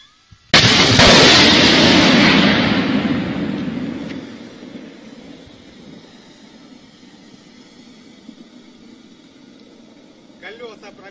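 Militia gunfire and an explosion aimed at a plane during the Ukraine war: a sudden loud blast that rolls on for several seconds, then fades into a distant rumble with faint sporadic shots.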